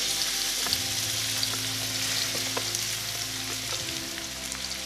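Chopped onion frying with garlic in a pan for chicken tikka masala, a steady close sizzle with scraping stirs and spatula knocks throughout, no voices.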